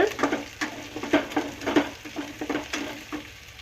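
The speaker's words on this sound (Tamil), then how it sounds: "அதை சேர்த்துட்டு நல்லா மிக்ஸ் பண்ணி விட்டுக்கோங்க." Onion and green chillies frying in a pan and stirred with a spatula, a steady sizzle broken by repeated scraping strokes in a quick irregular rhythm, close and moderately loud with no voices.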